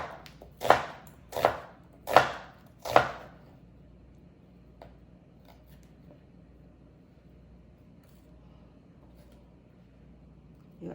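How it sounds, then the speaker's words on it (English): A knife slices through an onion on a board in a home kitchen, giving four crisp, evenly spaced cuts close by in the first few seconds, then near quiet with a low room hum. "So when you cut the onion,"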